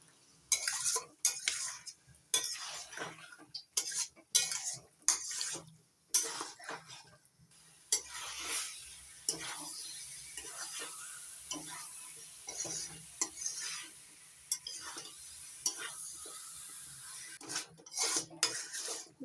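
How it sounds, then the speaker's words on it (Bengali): Chicken being sautéed over a medium-high gas flame with jackfruit curry ingredients, heard as repeated metal spatula scrapes and clinks against the pan over a low sizzle, with no talk. "এবার গ্যাসের ফ্লেমটা মিডিয়াম টু হাইতে রেখে 5 থেকে 7 মিনিটের মতো কষিয়ে নেব"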